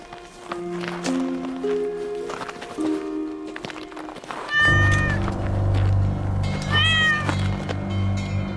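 A cat appearing in a dream scene of a Korean historical drama meows twice, loud and drawn out with wavering pitch, over a rumbling backdrop that follows a stretch of soft sustained music tones.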